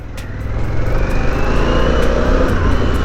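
A Harley-Davidson Pan America motorcycle sets off for a ride, its engine rumbling loudly and building steadily as it pulls away, with wind noise and no speech.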